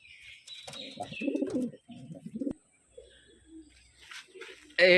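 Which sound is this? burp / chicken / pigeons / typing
pigeons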